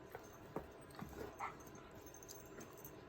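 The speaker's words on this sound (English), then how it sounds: "I have two dogs playing over here." Two dogs playing nearby give faint, brief whimpers and yips over a steady background hiss, with soft scuffling between the sounds.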